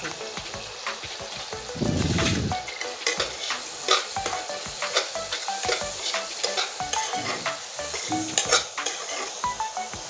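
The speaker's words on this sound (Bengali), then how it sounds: "এবার সুন্দর করে ভেজে নেব।" Rupchanda fish fries in hot oil with turmeric and chili powder, giving a continuous close sizzle broken by stirring scrapes and light clinks of utensils against the pan.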